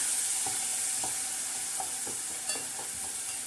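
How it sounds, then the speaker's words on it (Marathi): A green masala of chillies, garlic, coriander, cumin and coriander seed is tempered in hot oil for black urad dal, giving a loud, steady close-up sizzle with a few light stirring knocks and no talking. "छानसा असा तडका त्याला देऊया."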